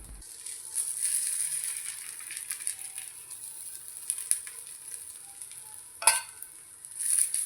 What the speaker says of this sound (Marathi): तव्यावर डोशाचं बॅटर सोडल्यानंतर आपल्याला दोन ते तीन मिनिट हा डोसा चांगला शेकून घ्यायचा आहे आणि मग याच्यावरती थोडं तेल सोडायचं आहे